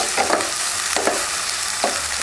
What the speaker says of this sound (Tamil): வெங்காயம் ஓரளவுக்கு வதங்கினதுக்கப்புறம் ரொம்ப வதங்க தேவையில்லை, சும்மா லைட்டாக வதங்கினா போதும்